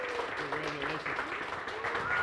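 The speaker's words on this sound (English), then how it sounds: "We'll wait for the applause to die down." Audience applause for the second place finisher, Red Eye Rooster Coffee, at a regional business grant competition show; steady broadband clapping fills the whole stretch with murmured voices mixed in.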